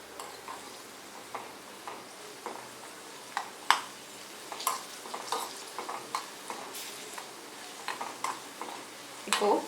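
Cashews and raisins frying for payasam in a pan give a soft sizzle, with occasional clicks and scrapes of a spoon stirring, quiet and close.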